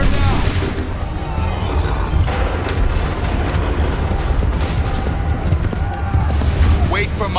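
Musket volleys in Assassin's Creed III battle, dense booming gunfire and rumbling blasts over a noisy battlefield, with shouting voices mixed in.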